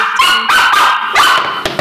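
A dog barks loudly and close by, several sharp barks in quick bursts with short pauses between them.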